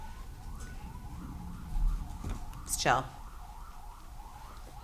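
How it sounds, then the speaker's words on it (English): Emergency vehicle sirens wail faintly in the distance outside, steady rising and falling tones under a man's speech in the room. "are those sirens annoying to you guys?"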